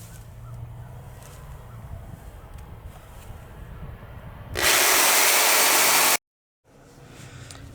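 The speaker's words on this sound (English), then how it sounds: "I'm going to use my jigsaw to cut out the first one" A jigsaw bites into wood for a small pet Adirondack chair, a loud buzzing cut that starts abruptly after quieter shop noise, runs about a second and a half, then cuts off sharply into brief silence.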